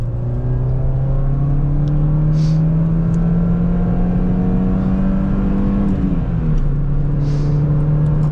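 A Peugeot 206 engine pulls strongly through its revs, a loud steady drone climbing smoothly in pitch for several seconds before a brief dip and recovery, with no talking.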